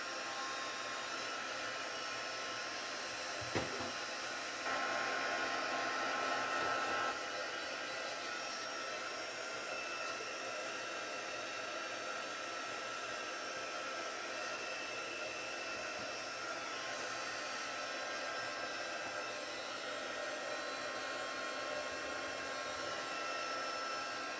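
A steady, loud whirring blower dries ink on a handmade Stampin' Up! card, running continuously with only a brief change in pitch near the start and no talking.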